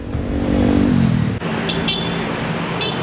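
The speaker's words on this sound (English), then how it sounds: "I don't know if you can hear the roar of the traffic in the background," Dense, steady roar of city road traffic in Jakarta, Indonesia, with a passing engine that fades near the start, constant and fairly loud throughout.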